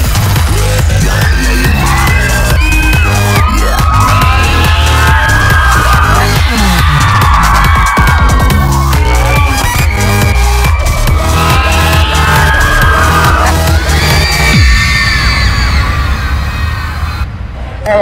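A packed crowd at the Social Slam Selfie Awards cheers, whoops and yells continuously, loud and close, in rising waves, with voices shouting through the din.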